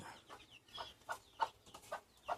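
A hen with a couple of chicks in an enclosure gives soft, short clucks in a quick irregular series, close but faint, with no talk.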